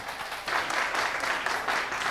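Audience applause at a live music show, a soft, fairly distant patter of many hands that rises slightly after a brief quieter start and then holds steady.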